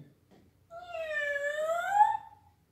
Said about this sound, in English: It was the cat.